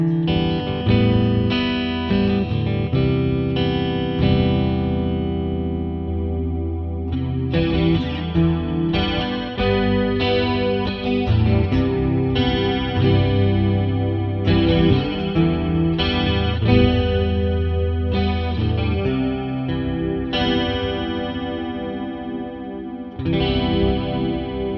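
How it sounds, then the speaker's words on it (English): A guitar played through a Boss CE-20 chorus pedal set to its rich mode, a wide shimmering chorus on strummed chords and single notes, loud and continuous with no talking. "It's the rich mode, it's a chorus setting, and it seems like it's doing something."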